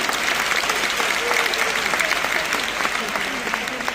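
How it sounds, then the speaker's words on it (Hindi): Loud, continuous applause from a crowd welcoming a Union minister at a government event, steady dense clapping throughout with faint voices mixed underneath. "जोरदार तालियों से स्वागत"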